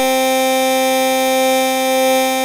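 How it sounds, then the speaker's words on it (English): Augmented Yangtze synthesizer oscillators stacking a square wave with a sine wave, giving a bright, buzzy sustained tone rich in harmonics that holds steadily at one pitch throughout, loud and without any voice. "If I were to combine, say, this square wave with this sine wave"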